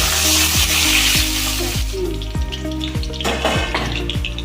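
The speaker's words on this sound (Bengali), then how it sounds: "আলুগুলো ভেজে নেব।" Potato pieces fry in hot oil in a pan, a loud dense sizzle with popping crackles, accompanied by rhythmic background music.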